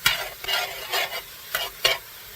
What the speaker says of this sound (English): So with pork, I always like to put a brown on pork.